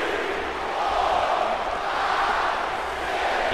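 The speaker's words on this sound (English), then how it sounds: "You can hear the crowd counting along with Cesaro, using his strength to swing Cedric Alexander around the ring." Wrestling arena crowd counting along during a giant swing, a loud massed chant that swells and falls in waves, filling the hall with no single voice standing out.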